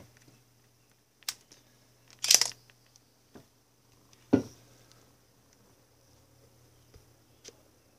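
A few scattered camera shutter clicks sound at irregular intervals against a quiet room with a faint steady hum.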